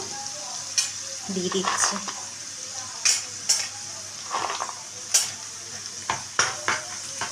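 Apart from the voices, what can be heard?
frying cashews for egg fried rice in a pan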